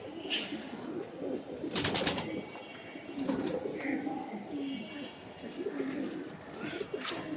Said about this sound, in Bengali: খুবই সুন্দর কবুতর, লাল খাকি বলা হয় এই কবুতরগুলোকে